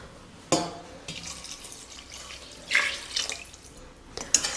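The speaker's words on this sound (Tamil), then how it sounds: "இப்படி கிளறி விட்ட பிறகு வாட்டர் ஆட் பண்ணுறோம்." Water is poured into a pot of one-pot chicken biryani rice, heard as a few close splashes and brief trickles separated by quieter gaps.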